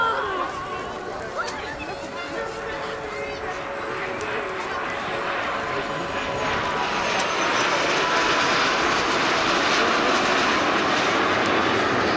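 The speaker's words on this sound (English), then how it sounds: "The two aircraft we have flying here this afternoon are" Aircraft engines drone at an airshow as planes fly overhead, a loud sustained roar that builds steadily, with a commentator talking over it.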